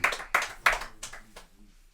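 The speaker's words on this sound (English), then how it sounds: "round of applause to our players" Small audience clapping for the players at a tabletop miniature game event, a handful of sharp claps spaced unevenly and tapering off within two seconds, fairly close.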